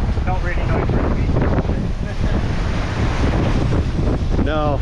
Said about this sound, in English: Oh, these guys are catching some waves now.